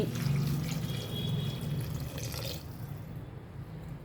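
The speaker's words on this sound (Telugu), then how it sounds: "హాఫ్ లీటర్ నీళ్ళు పోసుకోండి" Water runs and pours steadily into a cooking pot for toor dal with cucumber, turmeric and oil, fairly quiet and alone, tapering off near the end.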